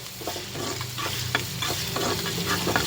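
Chopped onions frying with mustard seeds in hot oil, a continuous close sizzle with rhythmic stirring scrapes of a spoon through the pan, and no voices.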